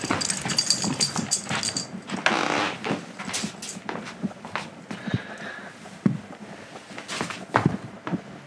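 A pet dog plays indoors, its paws patting and scrabbling across the floor with soft snuffles and a faint whimper, close and fairly loud in short irregular bursts.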